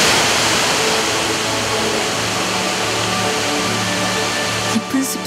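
Waterfall hidden in a deep forest on a Malaysian island rushes in a loud, constant broadband roar that stays steady throughout, close and without pause.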